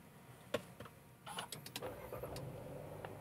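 A Jetta VA3 sedan started from its push-button start-stop switch inside the cabin: a few sharp clicks, then the engine catches and settles into a steady, quiet idle.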